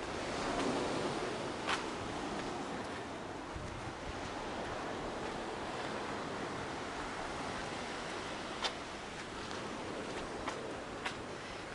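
Sea waves on the shore at Lazarevskoye, a constant broad wash of surf with light wind noise and a few faint clicks, steady throughout and without any talk.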